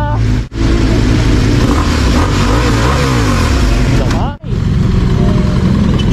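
A big bike motorcycle engine revs hard and loud, rising and falling in pitch, with a couple of brief cut-offs between throttle blips.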